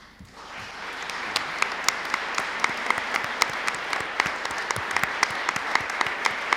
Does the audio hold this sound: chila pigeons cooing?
no